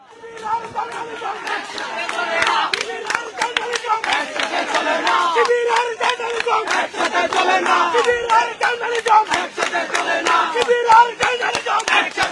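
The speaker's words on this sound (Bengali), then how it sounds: "গেটের বাইরে এসে অনেকক্ষণ দাঁড়িয়ে তারা সেখানে স্লোগান দেয়।" A crowd chants slogans in loud, rhythmic unison outside the gate of Shahbag police station, the shouting voices close and continuous, with scattered claps among them.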